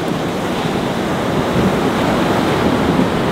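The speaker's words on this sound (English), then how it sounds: "That's a wave right there. These are all big waves." Large, rough ocean waves surge against a jetty in a continuous loud roar of surf mixed with heavy wind buffeting the microphone.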